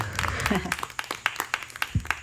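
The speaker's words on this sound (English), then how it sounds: "it has been a while since I've heard applause at the end of a song" A small audience at a house concert claps after a song, a sparse, uneven patter of distinct claps over a low background, with a brief voice.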